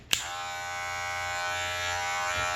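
A Gamma Alpha hair clipper switches on with a sharp click and settles into a steady, close electric buzz with a strong harmonic whine that runs unbroken to the end, with no talking.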